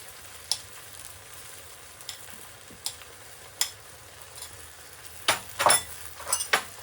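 Onions frying in oil for a drumstick curry produce a faint, steady sizzle, broken by scattered sharp clinks and scrapes of a utensil against the pan, which grow busier toward the end.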